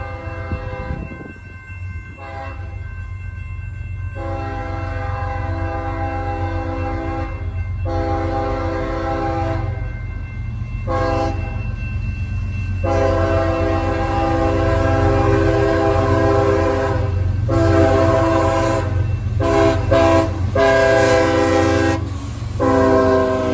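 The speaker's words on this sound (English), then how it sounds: "I caught CSX L302 rolling through Plymouth past the depot and the C&O Freight" CSX L302 freight train rolling past the Plymouth depot and C&O freight house, its loud horn blasting in repeated long and short calls over a steady rumble of the passing cars.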